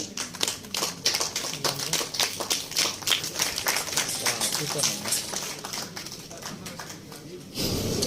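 An audience at a Kannada movie teaser release event claps in a dense patter of overlapping hand claps that stays fairly loud for several seconds before tailing off, with voices mixed in.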